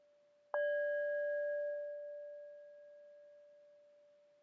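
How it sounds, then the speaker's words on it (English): A single bell strikes once and rings out with a clear, pure tone that slowly fades over several seconds in otherwise quiet surroundings. "here's the sound of a bell"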